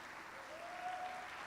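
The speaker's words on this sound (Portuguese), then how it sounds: "Dá um aplauso para Ele." Church congregation applauding together, a soft, continuous patter of clapping heard from a distance and fairly faint.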